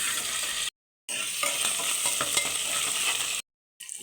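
Ginger-garlic paste sizzles in hot oil with lightly fried onions as it is stirred, giving a steady crackling fry with scraping strokes. The sound breaks off in two brief silent gaps, and no talk is heard.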